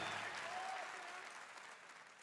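A large crowd at the Microsoft E3 2018 conference applauds and cheers at a distance, a broad continuous roar that slowly fades over a couple of seconds.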